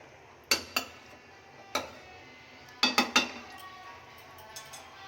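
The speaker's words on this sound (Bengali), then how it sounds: "একটু নেড়ে নিই ভালো করে" Spices being stirred in a cooking pot for khichuri, heard as a handful of sharp metallic scrapes and clinks of a spoon against the pot, some in quick clusters, over a quiet background.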